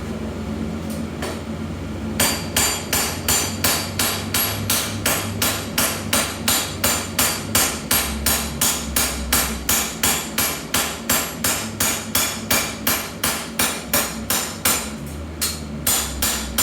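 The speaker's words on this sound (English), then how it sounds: "When you're planishing like this, I'm not really moving a lot of metal, just kind of smoothing out the surface." A hammer planishes a hot steel nakiri blade at the forge with a long run of fast, evenly spaced metallic strikes, loud and close, after a few slower opening blows.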